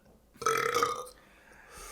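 A single short, throaty burp erupts close up, trailing off into quiet room noise with no talking.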